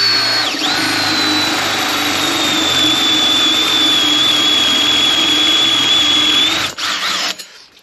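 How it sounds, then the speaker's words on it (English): A power drill countersinks holes during an annexe build, running as one loud, steady high whine for about six and a half seconds before it winds down and stops. "I have to countersink the holes"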